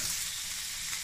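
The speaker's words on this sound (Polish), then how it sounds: "zgrillujemy ją na tej patelni, bo to bez tłuszczu" Strips of pepper fry in a dry pan without fat, a steady, soft sizzle with no talk over it.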